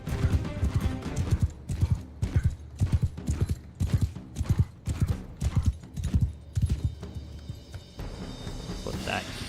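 Horse hooves from the video game Mount & Blade II Bannerlord, a loud, rhythmic clip-clop of galloping strides that runs for several seconds and then fades into a softer, rougher tail.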